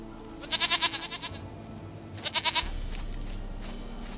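Two bursts of goat bleating in the video game The Witcher 3, each a quavering, stuttering cry about a second long, moderately loud over a low steady game ambience with no talk.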